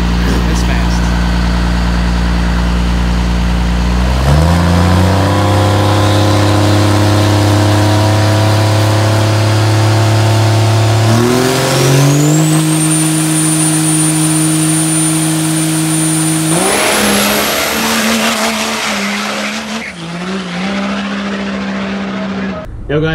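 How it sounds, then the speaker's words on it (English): Diesel pickup truck at a truck event revs and accelerates hard, engine pitch climbing in several surges with a high whine rising over the roar, loud and close. "This truck here, Mike calls Orange Crush. It's quick. It's fast."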